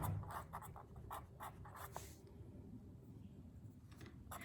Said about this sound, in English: So let me write my answer. I can write it over here.